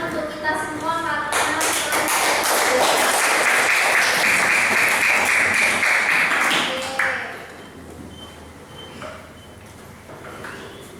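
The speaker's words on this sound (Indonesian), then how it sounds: "Sekali lagi kita berikan tepuk tangan untuk kita semua" A burst of applause from a group fills the first seven seconds, then fades to scattered clapping and room noise.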